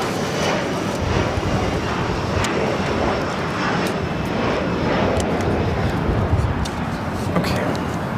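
A jet airliner departing LAX gives off a continuous broadband engine roar that stays loud and steady throughout, with voices talking over it.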